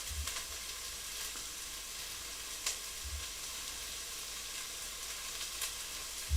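Vegetables for a tomato pasta bake sizzle and soften in a pan, a steady close frying hiss with occasional soft clicks of stirring, no voices.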